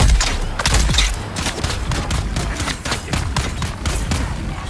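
A grenade blast and rapid gunfire erupt in the Dune Awakening video game, a loud opening boom followed by dense, close bursts of shots crackling steadily for several seconds.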